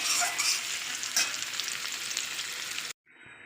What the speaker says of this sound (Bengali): এরকম ভেজে নিতে হবে হালকা করে